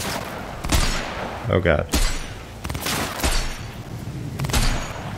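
Pistol fire in a Cyberpunk 2077 firefight, several sharp shots spaced a second or so apart amid game effects, with a voice briefly exclaiming over them.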